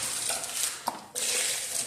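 Warm water mixed with a drop of car wash soap pours in a steady, splashing stream into a container for cleaning Tesla all-weather floor mats, with a short break in the flow before it resumes.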